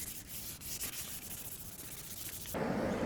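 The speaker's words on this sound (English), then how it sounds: "For some unknown reason, I decided to sand this thing all the way down to a 1000 grit." Fine sanding on a steel axe head worked down to 1000 grit, a steady soft rubbing hiss that grows louder and denser near the end, close and without talk.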